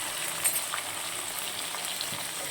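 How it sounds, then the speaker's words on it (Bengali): Small fish fingerlings frying in a pan, giving a continuous close hiss and sizzle at moderate volume with faint crackles scattered through, alone without any talk. "মাছটা ভাজা হোক"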